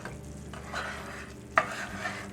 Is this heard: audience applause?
no